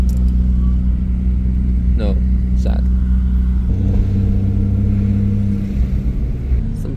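A Honda CRX drives past at the Nürburgring during a large Honda meet, its engine a loud, steady rumble that swells and shifts as it goes by, with people talking throughout.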